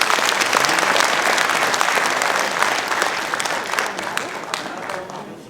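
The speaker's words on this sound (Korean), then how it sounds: "자, 힘찬 박수 부탁드리겠습니다." An audience at a Korean apple growers' winter meeting applauds loudly and steadily, a dense wash of clapping that slowly tapers off, with a voice faintly underneath.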